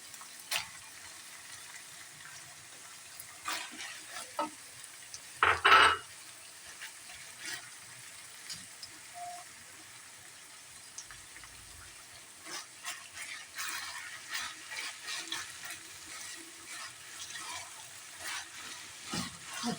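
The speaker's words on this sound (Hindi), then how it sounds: "अब इसमें टमाटर डालेंगे।" Tomatoes going into minced meat frying with peas: a soft steady sizzle in the pan with occasional stirring scrapes and one louder clatter, fairly quiet and without voices.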